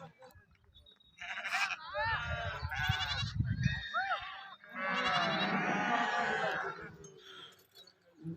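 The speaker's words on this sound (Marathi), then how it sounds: "बाळूमाच्या शेळे मेंढ्यांच्या नावानं चांग भले" A flock of sheep and goats from the Balumama herd bleats repeatedly at a hilltop camp in Indapur taluka, with overlapping near calls, clinking and low rumbling underneath.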